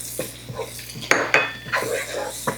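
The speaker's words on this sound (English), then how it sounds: "We're just going to stir that flour in, and we're going to cook it until this starts to bubble up" Flour being stirred into melted, lightly bubbling butter in a pot, with a handful of sharp metallic clinks and scrapes of a utensil against the pot over a soft simmer, close up with no speech.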